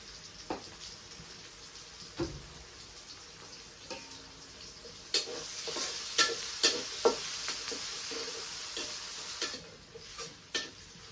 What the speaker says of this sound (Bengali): নুন মরিচ দিয়ে কষিয়ে নিন